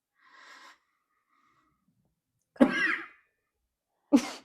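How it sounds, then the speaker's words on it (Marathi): Two sharp, hoarse coughs ring out close by after a brief wheezy breath, separated by a short silence. "नवीन स्टाईलचा खोकला"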